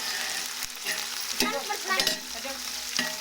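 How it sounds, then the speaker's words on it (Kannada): Tomatoes frying golden in a pan after ginger is added, with a steady sizzle and intermittent scraping strokes of a stirring utensil against the pan, close and continuous with no talk. "ಗೋಲ್ಡನ್ ಫ್ರೈ ಆಗಿ ಟೊಮೊಟೊ ಹಾಕ್ತಿದ್ದೀವಿ."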